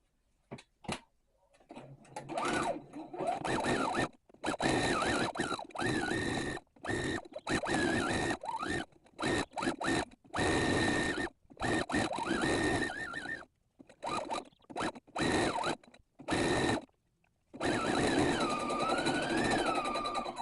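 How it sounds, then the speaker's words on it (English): Sewing machine stitching a pinned quilt, running in repeated bursts of rapid mechanical whirring and ticking with short stops between them, close up. "Now that you have it pinned, you are just going to stitch it right along here."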